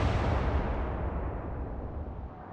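Naval guns firing in the warship game Atlantic Fleet: a heavy, deep boom rolls out and fades over a couple of seconds, alone without talk.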